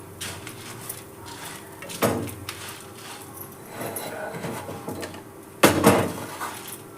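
Toor dal dry-roasted and stirred in a pan: soft rustling and scraping throughout, with two louder metallic scrapes and clanks standing out.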